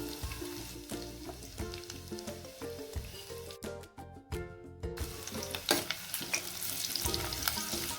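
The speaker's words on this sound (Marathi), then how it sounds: "लसणाचा रंग परतेपर्यंत त्याला आपण तळणार आहोत." Chopped garlic and green chillies fry in hot oil for sarson ka saag, giving a steady close sizzle with scraping stirring strokes throughout and no talk.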